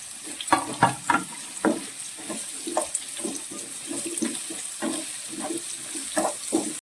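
Chopped onions fry in a pan with ginger, green chili and garlic, a soft sizzle under repeated scraping stirs that come in short bursts, backed by a thin constant hiss.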